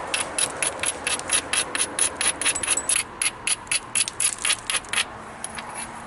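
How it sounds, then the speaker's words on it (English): Dacite biface edge being ground during flint knapping: rapid, rhythmic raspy scraping strokes, close and fairly loud, in quick bursts for about five seconds before fading to quiet, with no talking. "Now I'm going to grind it. Get rid of everything that doesn't belong."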